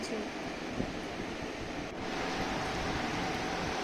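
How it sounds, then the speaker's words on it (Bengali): Steady rain falls on pond water, a dense, even hiss that fills the whole clip, constant in level and heard from close by. "এদিকে জলের মধ্যে বৃষ্টি পড়ছে"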